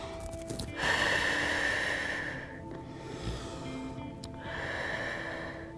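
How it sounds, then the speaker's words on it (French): Deep, slow breaths during a prenatal yoga pose, two long audible exhales about a second apart in a quiet room, close and fairly soft, with no talking. "Prenez quelques grandes respirations ici."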